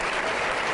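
Dense audience applause at a televised cricket awards show, a steady wash of many hands clapping throughout, close and loud with no talking.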